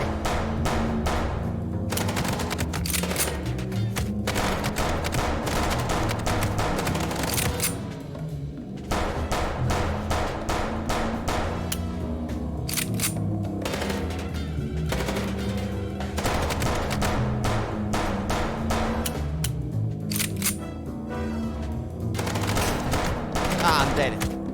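Dense video-game gunfire fills a Chicken Police shootout during a car chase. Loud automatic bursts and shots repeat almost nonstop, with brief lulls and heavy thuds between them.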